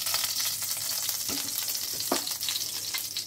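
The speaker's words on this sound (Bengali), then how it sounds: "এই চিনিটাকে তেলের মধ্যে এখানে একটুখানি ভেজে নেবো।" Sugar frying in a little oil in a wok for a Bengali hilsa fish curry, a steady close hiss of sizzling with a couple of soft stirring scrapes and no voices.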